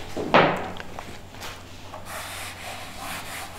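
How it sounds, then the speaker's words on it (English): Writing rubbed off a classroom board, starting with one loud close rub and then softer scrubbing strokes that trail away into quieter repeated wipes, with nobody speaking. "let me rub this out."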